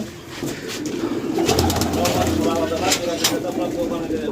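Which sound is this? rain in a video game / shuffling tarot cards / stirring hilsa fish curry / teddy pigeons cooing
teddy pigeons cooing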